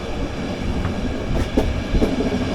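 A passenger train running through Bulgaria, heard from on board as a loud continuous rumble with rhythmic wheel clatter and a few sharper knocks over the rails.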